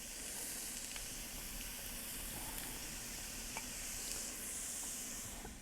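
Onions frying in swirled oil in a cooking pan give off a steady, even sizzle with soft crackles throughout, and no one speaks.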